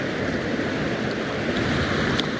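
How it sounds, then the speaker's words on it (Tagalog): Sea waves at a very low tide wash in a steady, close hissing roar mixed with wind, with no distinct breaks or pauses. "mapapansin nyo ang lakas ng alon"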